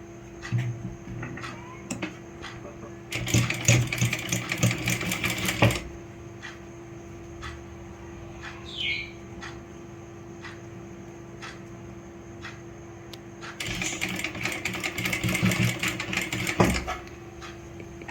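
Two bursts of rapid mechanical stitching from a sewing machine sewing a fabric sleeve, each lasting a few seconds, separated by quieter handling and faint clicks.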